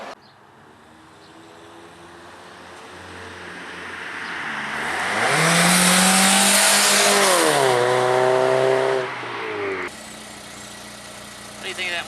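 A video game car fitted with a Cherry Bomb Vortex muffler idles, then revs up to a loud, sustained roar and drops back toward a rumbling idle.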